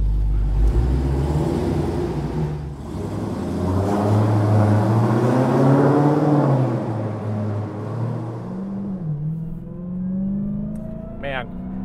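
A 2019 Dodge Challenger SRT Hellcat Redeye V8 accelerating hard, its deep engine tone climbing steadily through the revs and then easing off, heard from inside the car with voices talking over it.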